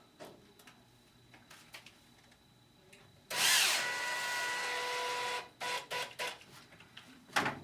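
A power screwdriver drives screws to fix a lock onto a vinyl window sash: quiet handling clicks, then a loud, close whirring burst of about two seconds, followed by short stop-start pulses and rattling.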